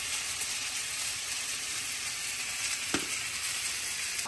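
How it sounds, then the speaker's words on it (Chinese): Dried baby shrimp stir-fried in a hot wok give a continuous, even sizzle with a faint scrape of stirring and no talking. "我用虾皮炒一下。"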